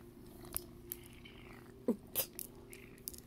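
An orange cat chews and purrs faintly at close range, with a few sharp clicks and brief louder chomps scattered over a quiet, steady low rumble.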